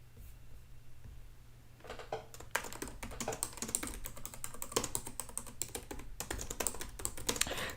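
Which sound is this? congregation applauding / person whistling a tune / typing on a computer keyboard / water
typing on a computer keyboard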